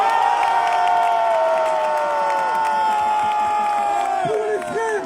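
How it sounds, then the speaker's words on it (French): Loud crowd at a Paris rally in support of Mali, with sustained cheering, shouting voices and whoops over scattered clapping, all close and continuous. "Applaudissez-les, s'il vous plaît."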